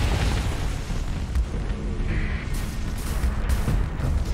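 Rumbling explosion as an enemy battleship is destroyed in the space combat game Starsector, a sustained low boom with crackling debris over more than four seconds, loud and dense throughout.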